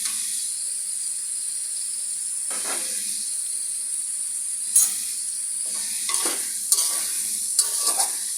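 Capsicum stir-fried in a pan with a spoonful of tomato sauce for homemade noodles, a steady close sizzle and hiss with a few sharp scraping stirs of the spatula toward the end.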